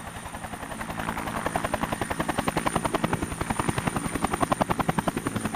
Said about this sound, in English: Hadi waits for the arrival of a helicopter.